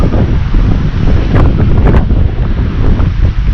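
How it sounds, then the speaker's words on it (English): The fast-flowing Virgin River in Zion National Park rushes loudly and continuously beneath a bridge, with heavy wind buffeting the microphone and masking much of the water's detail. "And the Virgin River, man, it is flowing, flowing, flowing."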